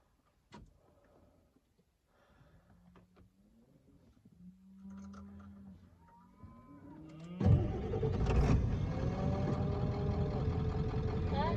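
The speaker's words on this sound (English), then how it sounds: "That was the starter whine, and you don't want to leave that going" A truck engine cranks and catches with a sudden loud roar, then settles into a rough idle, with the starter motor still whining faintly. Quiet clicks and shuffling come before the start.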